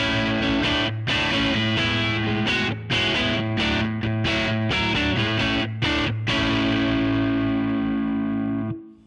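Distorted electric guitar through the Nembrini BG-Extasy amp plugin with a Tweed 4x10 cabinet: chugging, rhythmic chords with choppy stops, ending on a sustained ringing chord that fades out, loud and upfront, no speech.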